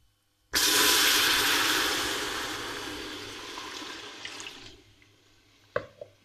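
Milk poured into hot, golden-brown caramelized sugar sets off a sudden loud hiss and bubbling that slowly fades, followed by a couple of sharp clinks near the end.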